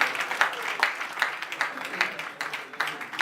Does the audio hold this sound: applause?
yes